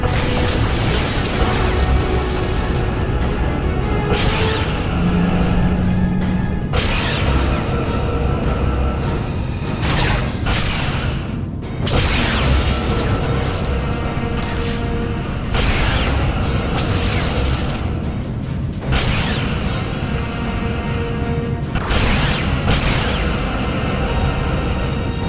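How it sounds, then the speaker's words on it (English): Photon torpedoes from a starship in the Star Trek: Legacy space combat game launch and explode in a long series of loud, repeated booming bursts over a continuous rumbling mechanical bed. "Prepare to launch photonic torpedoes."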